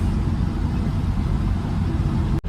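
A lorry's engine drones as it drives along a smooth highway on an early afternoon, heading from Hyderabad toward Kochi. A loud, steady low rumble continues throughout, ending in a brief sharp click.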